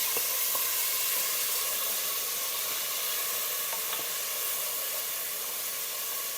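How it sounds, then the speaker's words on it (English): Garlic and Haitian épices frying in a pot, a soft continuous hiss and sizzle with a few faint crackles, close but fairly quiet, with no voices. "I'm gonna let it fry a little bit."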